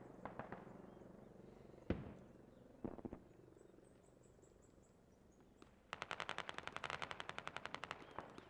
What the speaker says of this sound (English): He's lying underneath the 50 caliber fire.